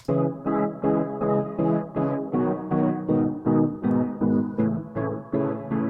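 Layered synth chords play in repeated rhythmic stabs, each swelling and fading through a sweeping Fruity Love Filter and EQ, with a full, bright tone and no voices.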